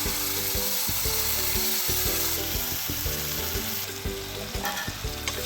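Fish curry with tomatoes frying and sizzling in a pan while being stirred, a steady loud hiss broken by repeated scraping stirs throughout, with no talking.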